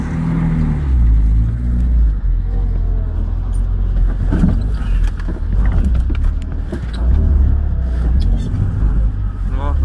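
A UAZ 452 van drives off-road through water, its engine rumbling low and loud with splashing and knocks over it, while people in the cab talk.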